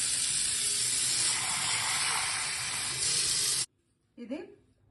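Running tap water sprays steadily over drumsticks and mustard seeds being rinsed for a drumstick mustard curry, a loud hissing rush that cuts off abruptly, followed by a brief softer splash and clatter.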